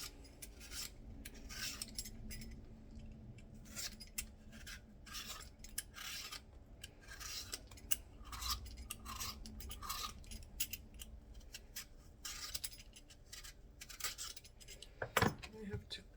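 A knife cutting a pumpkin into thin strips for preserving, with repeated short rasping strokes and light clinks against a board, close and fairly quiet, with a few scattered words between the cuts.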